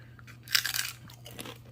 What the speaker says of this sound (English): Listen to this crunch. Just listen to it.